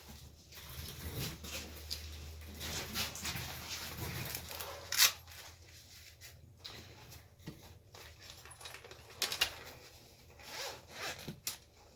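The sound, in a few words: zipper of a microphone carrying pouch being opened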